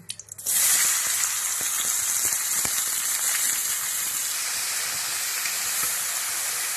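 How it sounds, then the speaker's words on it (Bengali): Chopped onion drops into a little hot oil in a wok, bursting into a loud, steady sizzle after a brief moment of quiet, hissing evenly and close by until the end. "কড়াইতে অল্প একটু তেল দিয়েছি, তেলের মধ্যে দিয়ে দেবো পেঁয়াজ কুচি"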